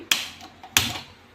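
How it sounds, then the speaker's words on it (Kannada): Kitchen gas stove being switched on before making onion poha tadka: two sharp, close clicks of the knob or igniter about half a second apart, each trailing off briefly, with no talking. "ಈಗ ಗ್ಯಾಸ್ ಆನ್ ಮಾಡಿ"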